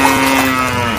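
A cow gives a single loud, close moo lasting about a second, a sustained low tonal call that fills the whole moment.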